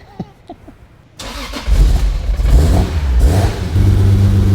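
A Toyota AE86 engine in Ireland catches and revs up after a quiet start, then settles into a loud, steady rasp close by with rising and falling throttle blips.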